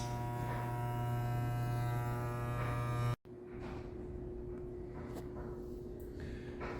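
An electric razor buzzes steadily and close while shaving a thick growth of facial hair, cutting off abruptly, then a fainter hum with light scraping and handling noises follows.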